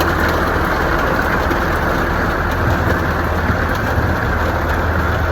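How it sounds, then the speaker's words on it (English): Heavy rain pours steadily during a long-distance run from Montreal to Toronto, a dense, unbroken roar with no voices. "we were running in rain that I had never ever run in before"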